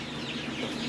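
Colombian Wyandotte hens and assorted roosters murmur and cluck softly in a dim coop at dusk, a low, continuous, fairly quiet flock chatter heard close by.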